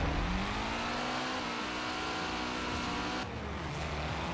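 Nissan Silvia S14 with 217 horsepower launching in a racing game drag run, wheels spinning hard as the engine revs and climbs steadily. A brief dip in the engine note near the end suggests a gear shift.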